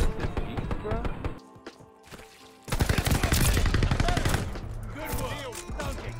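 Akimbo Marco 5 SMGs in Call of Duty Search and Destroy fire in rapid bursts, broken by a short lull and then resuming densely, with players talking over the gunfire.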